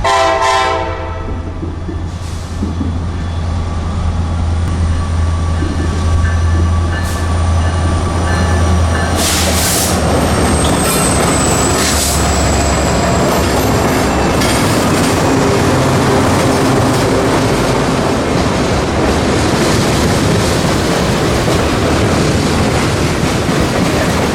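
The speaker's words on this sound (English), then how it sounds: "a long mixed freight rolling south, presumably toward Atlanta's Inman Yard" A long mixed freight train rumbles past close by, a horn sounding early, then steady heavy roar of wheels on rails with occasional squeals.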